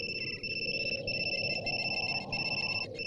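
In a Bengali action movie scene, a mobile phone rings with a steady, high electronic tone in rapid pulsing bursts for about three seconds over a quiet background hum.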